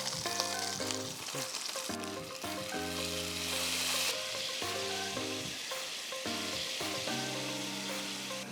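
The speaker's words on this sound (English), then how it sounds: "Frying up some tau kwa to up the protein a bit," Tau kwa tofu fries in a pan, a constant crackling sizzle that runs throughout, heard alongside strong melodic music.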